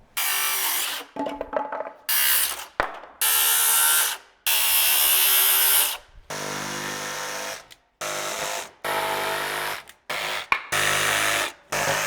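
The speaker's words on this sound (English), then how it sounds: "Then we're going to finish our cut with a jigsaw." A jigsaw cuts through a wooden stair stringer to finish a cut, running in repeated loud bursts of a few seconds each, separated by brief pauses, with no talking.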